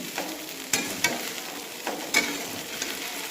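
Food heating in a pan gives a soft steady sizzle, with a few louder stirring scrapes and clinks breaking through at irregular intervals, close and without talking.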